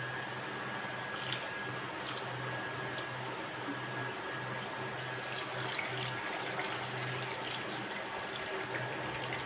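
Water pouring steadily over garlic cloves as they are washed, a continuous trickling, splashing flow with a low hum underneath, moderately faint and close, with no voices.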